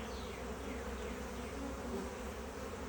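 Dense, steady buzzing of many honeybees around a hive during a swarm transfer from a nuc into a ten-frame hive, close and continuous with no voices.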